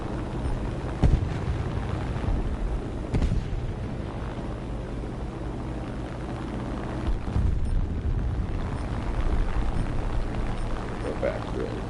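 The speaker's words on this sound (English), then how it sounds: "Drop 2 bombs right there." Bombs dropped on a self-propelled gun in the tank game War Thunder: a few heavy booms punctuate a continuous low rumble of engine and battle noise, with a deep explosion near the middle and speech faintly mixed in.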